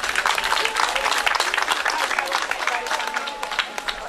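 Audience applause at a puppet festival: a steady, full burst of clapping from a crowd that fills the room and gradually thins toward the end.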